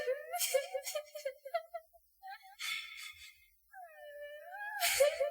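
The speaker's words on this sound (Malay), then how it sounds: "saya terdengar seperti bunyi tangisan yang sayu sangat daripada tingkat yang paling atas blok" A drawn-out, sorrowful wailing cry heard at night in a ghost story set in a hostel block, rising and falling in several moaning phrases with short gaps, fairly close and alone.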